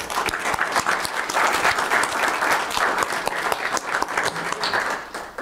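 A county commission meeting audience gives Lynn a round of applause, dense sustained clapping from a roomful of people that stays loud for several seconds before tapering slightly.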